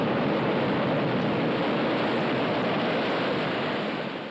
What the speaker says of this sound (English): and the wind blows.